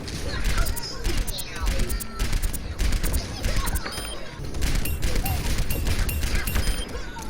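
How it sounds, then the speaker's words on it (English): Rapid gunfire from the Soldier 76 hero in Overwatch, with sharp body-shot and headshot hit sounds and clanks, dense and loud, the pops coming in quick bursts throughout. "The headshots give a red hit indicator and a different sound than the body shot."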